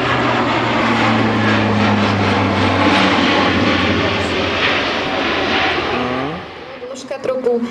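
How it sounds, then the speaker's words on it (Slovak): A C-27J Spartan aircraft flies a tight turn over Piešťany airport, its loud, steady engine drone and low propeller hum filling the scene before easing off near the end as brief other noises cut in. "Spartan predvádza zatáčku s minimálnym polomerom, kde skutočne vidíme, že je schopné sa otočiť s polomerom niekoľkých 100 metrov"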